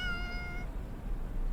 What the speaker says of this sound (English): I can hear the cat's voice from above.